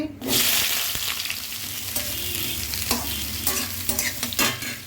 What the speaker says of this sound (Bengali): কড়াই দিয়ে বসিয়েছি, তেল দিয়ে দিলাম, পেঁয়াজ কুচি দিচ্ছি